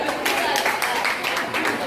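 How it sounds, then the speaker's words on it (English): A church congregation claps together in a dense, continuous wash of applause, moderately loud and close, with a speaking voice running beneath it. "If you know you are beautiful here, clap for yourself."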